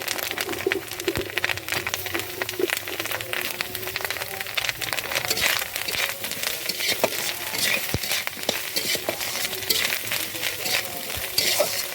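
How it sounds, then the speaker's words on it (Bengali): Drumstick pieces and fried bitter gourd are stir-fried together in a pan for a fish-roe chorchori, producing a dense, even sizzle with frequent light spatula taps and scrapes throughout. "ভালো করে নেড়ে চেড়ে সব সবজিগুলো একসাথে দিয়ে ভালো করে কষে নেব"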